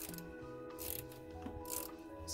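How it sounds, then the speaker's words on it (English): A quarter-inch ratchet with a universal joint tightens a coil pack bolt on a Ford Crown Victoria, making a few faint, brief clicking bursts close by. "Got my handy dandy uh, quarter inch ratchet with the universal joint"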